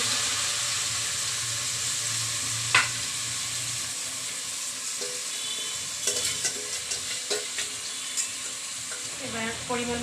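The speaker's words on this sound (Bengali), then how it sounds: "পোলাওটা ভেজে নেব" Pulao rice with whole garam masala, cardamom seeds and cloves sizzles steadily as it fries in a pan, with a few sharp clinks and scrapes of a spoon stirring it near the end.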